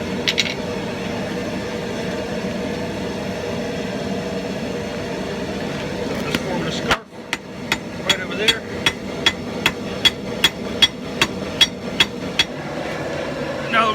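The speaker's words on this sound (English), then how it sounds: "now I'm going to start forging in the scarf" Hammer forging a rasp scarf at welding heat, with steady, evenly spaced ringing blows close by over a constant low machine roar, after a stretch of that roar alone.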